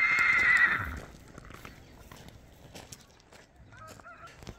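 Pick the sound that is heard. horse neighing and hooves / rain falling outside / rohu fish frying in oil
horse neighing and hooves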